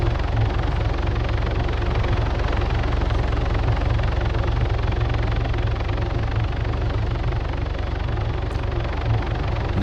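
Military helicopter in the Arma 3 video game setting down to land troops, a steady loud rotor and engine drone filling the whole stretch without pause, close and constant with no voices.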